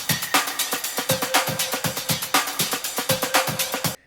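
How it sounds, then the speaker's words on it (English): A drum group of ride cymbals and toms with no kick drum plays a steady driving pattern of close, crisp hits that repeat in a tight rhythm, with cymbal wash ringing between strokes. "So yeah, the drums sound like this without the kick, of course"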